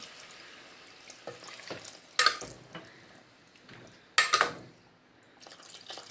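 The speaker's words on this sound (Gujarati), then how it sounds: "હવે હું નાખી દઉં પાણી" Water poured into a cooking pot of cooked potatoes gives soft sizzling and stirring textures, broken by two sharper splashing bursts; close, fairly quiet, no voices.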